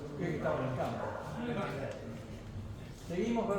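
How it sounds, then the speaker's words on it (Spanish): A dog barks a few times somewhere outdoors during a 50th-anniversary commemorative ceremony, partly masked by a murmur of voices. "Eso es un perro, ¿no?"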